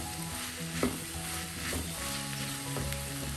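Beans and potato masala sizzles steadily in a pan as it is stirred, a continuous close frying hiss with occasional soft scrapes of the spoon.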